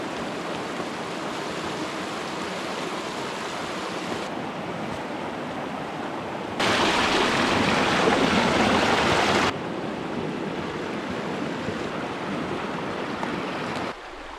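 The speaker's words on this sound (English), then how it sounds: "this river here is fed directly from those tall peaks over there" A mountain river in the New Zealand wilderness, fed from tall peaks, rushing in a steady broadband wash that swells louder midway, heard alone without voices.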